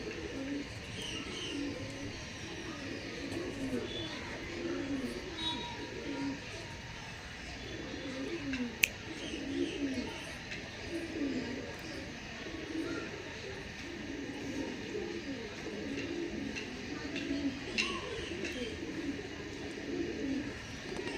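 Andhra pigeons coo repeatedly in soft, rolling phrases, fairly close and steady over a light background hum, with a faint voice now and then.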